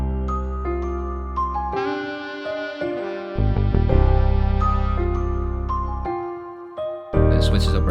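A hip-hop beat built in FL Studio from piano, celeste and bass, with steady melodic chords over a booming low bassline, loud and full and without talk.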